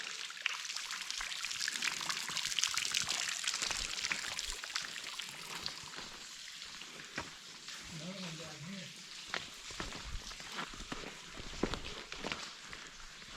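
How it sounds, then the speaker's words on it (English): Water trickles down a rock wall along a gorge trail, a soft continuous pouring hiss with footsteps and occasional voices nearby. "water trickling down"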